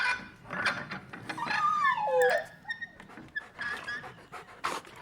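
A dog pants in quick, breathy bursts in a film scene, mixed with whimpering, whiny vocal sounds and shifting background score, fairly close and clear with no talking.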